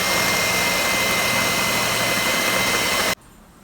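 An electric mixer beats banana muffin batter after half a cup of flour goes in, a loud continuous motor whir close by that cuts off abruptly after about three seconds.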